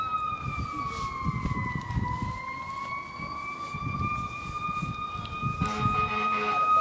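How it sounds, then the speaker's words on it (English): An emergency vehicle siren passes along a street among open stores, its wailing tone sweeping slowly up and down over rumbling traffic, fairly loud and close, with no one speaking. "Excuse the siren."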